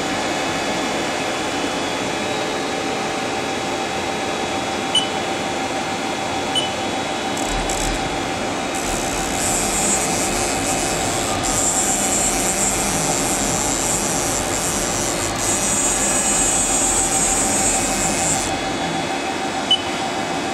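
Haas DT-1 drill and tapping center with its spindle running at 1,000 RPM: a steady, continuous machine hum and whir throughout, with a higher whine rising in the middle, close and even, no talk.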